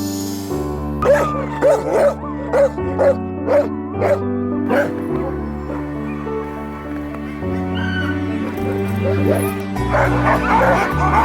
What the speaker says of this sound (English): What's that dog's name?